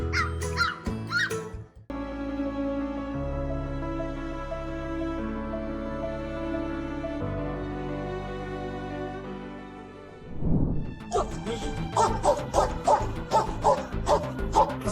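Rescue dogs bark in sharp, repeated bursts at the start and again near the end, loud and close, with sustained music playing between the barking passages.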